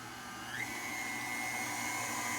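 An electric mixer whirs steadily as it beats cake batter for a sock-it-to-me cake, a continuous motor drone that rises slightly in pitch partway through.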